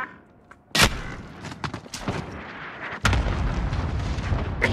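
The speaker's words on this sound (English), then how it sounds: "Allied cluster strike inbound." In a shooter video game, an allied cluster strike lands as two heavy booming explosions, followed by a dense, rumbling burst of blasts and crackling debris that continues to the end.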